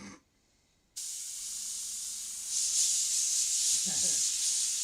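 A spray gun applying finish to timber gives a steady, loud hiss that starts abruptly after a brief pause and swells slightly partway through, with a short knock near the end.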